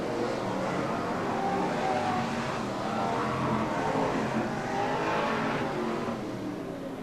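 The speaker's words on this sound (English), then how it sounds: "all the cars circulating around the opening lap" BriSCA Formula 1 stock cars circulate the Skegness oval on the opening lap in 1994, a continuous, fairly distant roar of engines swelling and fading as the pack goes around.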